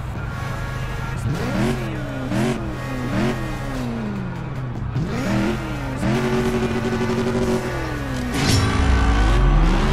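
An Audi R8 in CSR2 Racing revs hard through repeated rising and falling gear sweeps, a steady loud engine drone with quick shift dips, swelling louder near the end.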